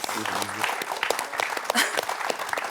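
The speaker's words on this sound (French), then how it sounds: "On peut l'applaudir, Jean-Pierre." Studio audience applause on a French TV quiz show, brisk clapping with individual claps standing out, a host's voice briefly heard at the start.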